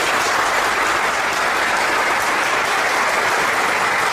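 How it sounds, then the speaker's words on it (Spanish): Congregation at a Pentecostal church gathering applauding loudly and continuously, a thick, even wash of many hands clapping close by with no breaks. "un aplauso para ellos."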